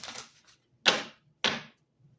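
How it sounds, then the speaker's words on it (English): Tarot cards are shuffled up close in three short, crisp bursts separated by brief silences, with no talking. "I'm going to give a shuffle."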